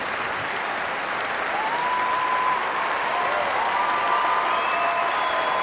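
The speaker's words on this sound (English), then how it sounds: "this welcome from the crowd tells you what the British public feel about this great Czech athlete" A large Wimbledon crowd applauds tennis player Jana Novotna, a dense, sustained wash of clapping that stays loud and even throughout, with a few faint whistles rising above it.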